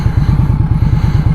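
Indian Scout Bobber motorcycle being ridden on a street past utility work, its engine giving a loud, close, rhythmic low thumping with some clatter through a short stretch.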